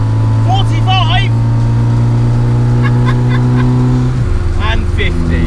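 Small engine of a 1991 Robin Reliant three-wheeler drones steadily and loudly while driving, its pitch holding then dropping abruptly near the end as a gear change cuts in, with brief chirpy sounds scattered over the top.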